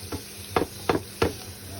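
Garlic and onion sautéing in a pan for sautéed chayote, mostly a quiet low sizzle with four sharp stir-scrapes or clanks spaced about a third of a second apart.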